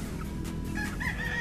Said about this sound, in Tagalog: May mga manok natin eh.